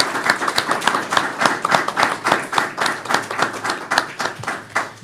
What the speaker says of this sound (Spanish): Aplaudan a Sorrillo.